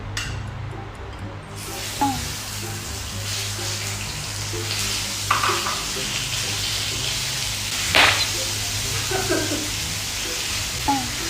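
Pork frying in oil in a pan for kimchi fried rice, a steady dense sizzle and spatter throughout with occasional louder pops and crackles, near and fairly loud, with no talk over it.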